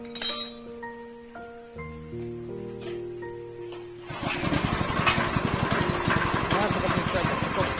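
A pellet-making machine with a cutting blade, set up with its die, is switched on after some light tonal clinks. It jumps into a loud, steady grinding rumble with rapid rhythmic pulses that continues to the end.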